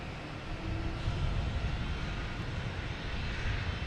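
A JetBlue Airbus A321 airliner arriving from Heathrow comes in to land at Boston Logan Airport, its engines a broad, steady roar building slightly and holding, heard from a distance outdoors.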